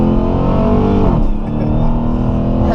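A car in sport mode with paddle shifters accelerates hard, its engine roaring loud and steady with a brief dip in pitch, like a gear change, partway through.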